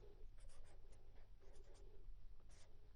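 A pen writes ratios of similar triangles during a geometry lesson, producing soft scratchy strokes in short bursts separated by brief pauses, faint and close, with no speech.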